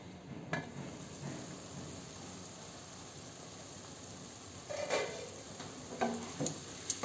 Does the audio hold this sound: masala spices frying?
yes